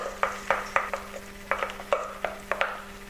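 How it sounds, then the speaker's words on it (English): Egg yolks whisked with Splenda in a bowl, a quick irregular series of sharp clinking taps of the whisk against the bowl, close and clear over a faint steady hum. "I'm going to whisk this up until the Splenda dissolves"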